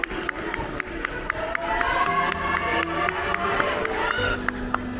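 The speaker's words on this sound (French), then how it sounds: "Et nous on est là, on applaudit." Football supporters at a Crossing Schaerbeek match clap and cheer for the players after the game, a steady crowd wash with sharp individual claps standing out, some voices and tones mixed in the background.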